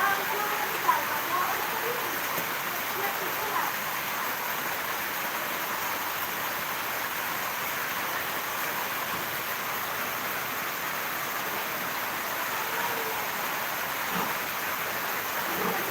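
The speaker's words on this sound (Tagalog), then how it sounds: "almost 5 hours na ning ulan dere" Heavy rain pours steadily in Negros, a dense unbroken hiss with no pauses, fairly loud and close throughout.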